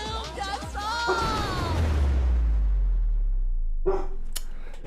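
A dog barks and yelps loudly at close range in a few sharp bursts, followed by a rumbling, sweeping low noise and a brief later yelp.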